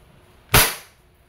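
A single sharp shot from a WE Bulldog short-barrel airsoft gun, close and loud with a quick decay into silence.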